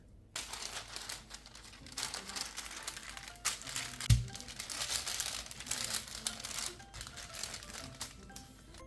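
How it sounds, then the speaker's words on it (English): Cookie dough made with almond meal is rolled out on baking paper, giving continuous crinkling and rustling of paper with soft rolling pushes and one dull knock midway, close but quiet, with no talking. "Place the cookie dough onto baking paper and roll it out"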